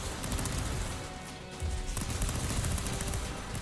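Rapid enemy gunfire in the action platformer game Fury Unleashed, dense bursts of shots with a brief lull near the middle, loud and continuous throughout.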